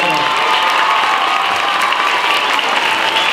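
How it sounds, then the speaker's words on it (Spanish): Loud applause from schoolchildren at the Benito Juárez school during a roof-structure inauguration, a dense and continuous wash of clapping with faint cheering mixed in, holding a steady level throughout. "le vamos a dar un aplauso fuerte a nuestras maestras y nuestros maestros"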